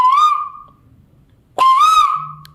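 A person whistles an imitation of a koel's call, two rising-falling whistled phrases separated by a short pause, close and clear with near silence between them.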